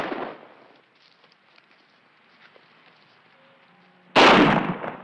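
Gunshots ring out in a 1950s radio crime drama, one sharp blast opening the scene and another loud crack near the end, with a quiet, sparse stretch of faint sounds between them.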